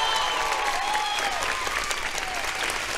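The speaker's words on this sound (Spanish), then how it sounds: "Vamos a despedir con un fuerte aplauso al grupo coreográfico de El Número Uno." A television studio audience applauds a choreography group on the Salvadoran show El Número Uno, steady dense clapping that fills the whole moment at an even level.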